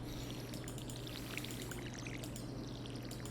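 Water pours steadily from a watering can onto crops in the Stardew Valley farming game, a continuous soft splashing trickle heard alone over a low steady hum.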